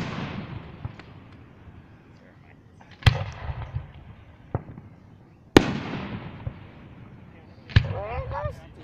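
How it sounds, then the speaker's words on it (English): Fireworks at a North Andover display boom in several loud, sharp blasts, with crackling tails and smaller pops in between. Voices talk faintly underneath. "Those are the fireworks."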